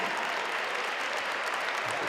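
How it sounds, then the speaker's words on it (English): A crowd at a high school girls' basketball game in an arena applauds and cheers as the period ends, a dense, steady wash of clapping. "The crowd is on their feet here at the NHU Arena"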